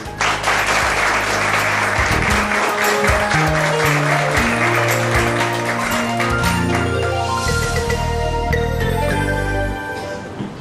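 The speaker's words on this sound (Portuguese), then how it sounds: "Então recebemos agora com nossa salva de palmas o professor Domingos Mondonho." A crowd applauds loudly and continuously, with musical tones ringing underneath, tapering slightly at the end.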